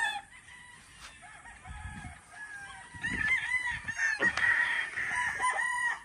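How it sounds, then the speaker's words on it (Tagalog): An Abellio rooster crows loudly and close on a farm while chickens cluck around it, the crow rising over a bed of scattered clucking with no talk. "Ito po ay Abellio rooster."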